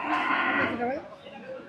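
A cow moos loudly and close by at a rain-soaked cattle market, one long lowing call that falls in pitch and then tails off.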